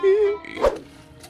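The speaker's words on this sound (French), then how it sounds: "Chien." A single short bark from a dog at a fishing spot, following a brief voice, then faint background rustle.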